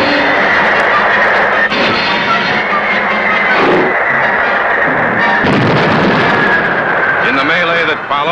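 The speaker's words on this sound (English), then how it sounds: "Set. Fire. Weapons fired." Torpedoes fired from the WWII US Navy submarine USS Jack: loud, sustained rumbling bursts and heavy low thuds, dense and continuous throughout, with a voice faintly mixed in.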